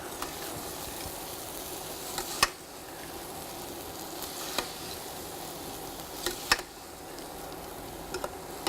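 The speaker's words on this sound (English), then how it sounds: "give it a stir" A colourful dish is stirred in a pan in a studio kitchen, giving a steady soft sizzle with a few sharp clicks and scrapes of the utensil, close and moderately quiet with no talking.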